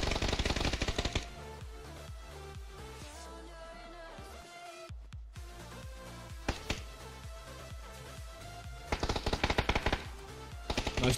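Rapid bursts of automatic gunfire from the battle royale game PUBG, loud and close, in dense rattling volleys that pause briefly midway and then resume in sharp repeated clusters.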